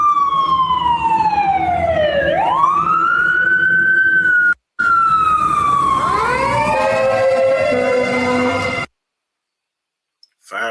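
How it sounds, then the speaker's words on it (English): Los Angeles fire truck siren passing by, wailing loudly with rising and falling sweeps, a brief dropout midway, then a second overlapping siren tone before it cuts off into silence. "I'm going to let this siren do its thing."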